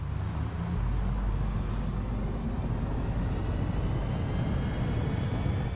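Renault DeZir Concept electric car in the Driveclub racing game, a steady broadband whoosh like a jet with a faint high whine, loud and continuous with no talking.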